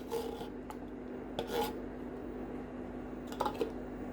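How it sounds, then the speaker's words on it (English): Rice pudding with condensed milk being stirred in a pot, a spoon rasping and scraping against the pot bottom in a few short bursts over a steady low hum. "Stir it."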